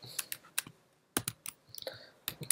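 Sparse keystrokes on a computer keyboard, close and fairly quiet, a few clicks then a pause, followed by a quicker burst of typing.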